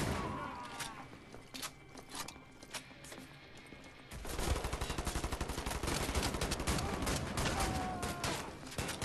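Gunfire in Wolfenstein: The New Order, with sparse shots at first that give way to dense, rapid automatic bursts, loud and continuous with no talk over them.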